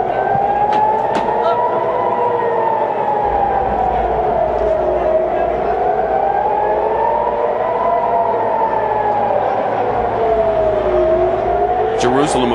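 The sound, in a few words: air raid sirens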